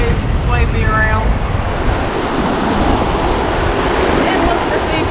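Surf washing steadily at the water's edge on a beach at Hunting Island State Park, a loud, continuous rush with wind buffeting the microphone and no talking.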